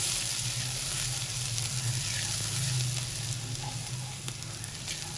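Crushed fresh garlic sautéing in a pot, giving a steady, close sizzle and crackle of frying that holds evenly throughout with no voices.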